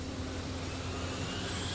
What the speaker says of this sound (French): Les moteurs des avions de chasse rugissent sur le pont du porte-avions américain USS Independence